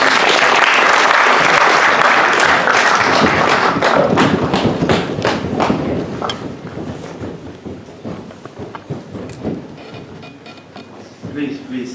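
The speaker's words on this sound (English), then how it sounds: "Please, with a round of applause, help me to welcome the Speaker of the 8th Parliament of the 4th Republic, the Right Honourable Alban Bagbin." Audience applause fills a hall as the Speaker of the 8th Parliament of the 4th Republic arrives, loud and dense at first, then thinning into scattered claps with some talk underneath.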